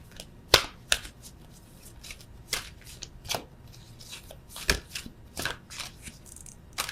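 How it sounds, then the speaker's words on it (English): Tarot cards shuffled and pulled by hand, a string of crisp flicks and snaps with a few sharper slaps, close and fairly quiet, no talking. "I'm going to just pull one of these beastly cards."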